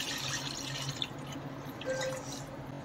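Yogurt and gram flour mixture poured into cooked masala in a kitchen, a steady wet trickling and dripping with a faint sizzle, close and fairly quiet, no talking.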